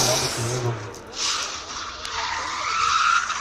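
A drift car in a competition run on a Latvian drift event with little engine power skids with a rising tire squeal and engine wail, loud and sustained, under excited commentator speech.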